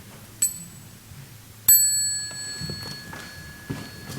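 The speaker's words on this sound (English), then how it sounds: "when we hear the sound of the small bell" A small meditation bell struck twice, the first a brief ting and the second a clear ring that sustains and slowly fades, heard in a quiet room with faint shuffling underneath.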